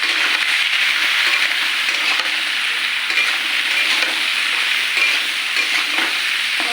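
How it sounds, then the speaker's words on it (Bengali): Potatoes and ridge gourd fry in a wok with onions, giving a steady, loud sizzle with occasional stirring scrapes throughout, close by and without any talk. "আলু আর ঝিঙে একসঙ্গে ভাজা ভাজা করে নেবো।"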